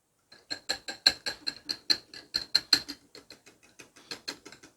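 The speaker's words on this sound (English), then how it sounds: "we're going to whisk this up just a little bit to get it all" A whisk beating lime cream with lime juice in a bowl for chili topping, a quick steady run of light scraping clicks, close and fairly quiet, with no voices.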